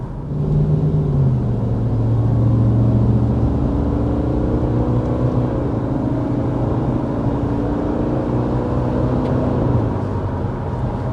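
Loud, steady engine drone of a 2024 Subaru Forester under moderate acceleration, its pitch rising gradually and settling, with continuous road rumble and no talking.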